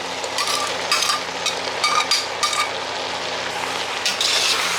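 Red hotdog pieces sizzle and fry in a pan for Filipino-style spaghetti sauce, with steady crackling broken by clattering scrapes of a spoon as they are stirred, close and fairly loud.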